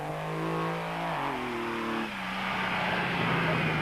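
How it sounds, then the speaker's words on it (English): A raceco off-road race car pulls away from the start of the 1997 Tarkastad 400. The engine note climbs through two quick upshifts and then fades into a continuous, moderately distant drone over outdoor background noise. "First car away was the raceco of Stanley Illman and Franz Stangl"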